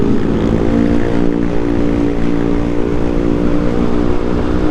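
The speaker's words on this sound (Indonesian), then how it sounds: "Dari tadi banyak yang pakai knalpot racing guys," Motorcycles fitted with loud aftermarket racing exhausts roar by on a street, a continuous close, rumbling engine drone with a rough, buzzy texture throughout.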